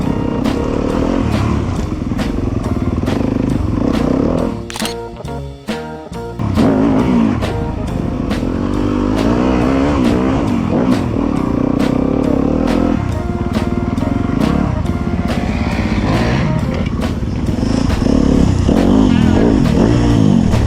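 Yamaha YZ250FX dirt bike revving hard on a homemade enduro course built from junk, with a loud, close, continuous engine drone rising and falling as it spins over obstacles, plus clattering impacts.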